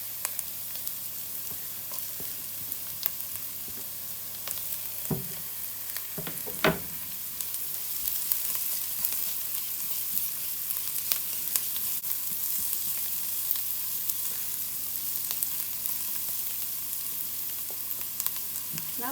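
Onions and garlic fry in a pan with a steady broadband sizzle, broken by a few sharp clinks and scrapes of stirring around the middle, and no voices.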